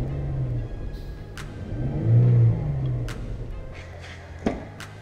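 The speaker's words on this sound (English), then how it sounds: "I'm gonna rev it up for you guys." A 2010–2011 Ford F-150 pickup, lifted 6 inches, revs its engine nearby, a rumbling idle swelling into a rising, then falling, rev, with a short sharp knock near the end.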